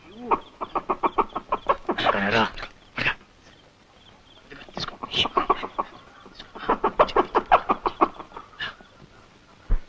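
A hen clucks close by in a film scene, in rapid rhythmic runs of short throaty calls broken by brief pauses and a few sharper squawks.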